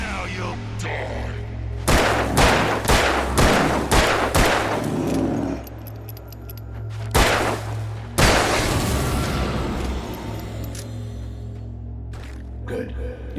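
Gunfire from the video game Alan Wake: a burst of sharp, loud shots in quick succession, then two more heavy blasts with lingering rumble, over a constant low game drone.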